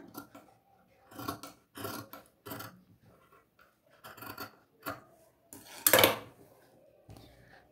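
Scissors cut crosswise through cloth for a lined chudithar top, a series of close crisp snips and rustling slides in irregular bursts, with one louder sharp swish near the end and quiet pauses between.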